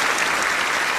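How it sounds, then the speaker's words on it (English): An audience claps steadily on a school stage in a Roblox story, a dense, even burst of applause heard without speech. "What the hell, who is clapping?"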